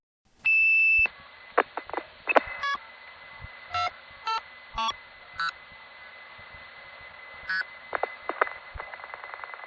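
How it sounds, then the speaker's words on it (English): Tones on a 1975 telephone line routed through an NX1 switch: a busy signal laid over other sounds, heard as a run of short, evenly spaced electronic beeps mixed with scattered clicks and varied tone bursts. "they'll put you through while superimposing a busy signal or reorder"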